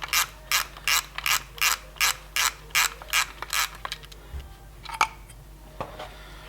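A ratchet spins off the 13mm nuts holding a brake caliper's floating bracket on a Ford Escort Cosworth, giving about ten loud, evenly spaced bursts of clicking, followed by a few scattered metallic knocks and clinks.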